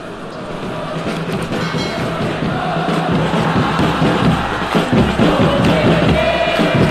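Football stadium crowd at an Indonesia versus Uzbekistan national team match, applauding a substituted player: a dense, sustained roar of clapping and cheering that swells slightly and stays loud throughout, with no clear talk over it.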